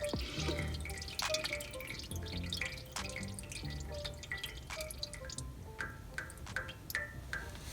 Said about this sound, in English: You're gonna make sure you let it all drain out.